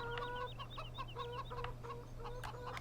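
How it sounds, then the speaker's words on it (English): Chickens in the farming video game Farming Simulator 17 cluck and chirp repeatedly in short, close bursts over a steady low hum, with no talk. "The chickens."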